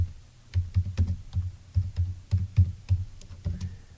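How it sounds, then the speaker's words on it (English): Rapid clicking keystrokes on a computer keyboard as a short search phrase is typed, about a dozen close, crisp taps in an uneven rhythm with no voices. "I'm going to type in Jane Austen."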